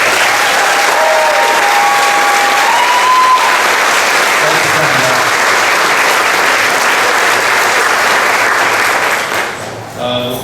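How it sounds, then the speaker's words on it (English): Sustained, loud audience applause at an outdoor send-off event, steady clapping for about nine seconds before tapering off near the end, with a faint tone audible early on. "Everybody give him a round of applause."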